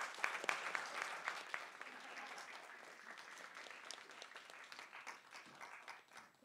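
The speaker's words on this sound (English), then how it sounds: "If we could give our speakers another round of applause." An audience applauds the speakers after a keynote discussion on the Ukraine conflict, a dense burst of clapping that thins slightly as it goes on, fairly faint and steady.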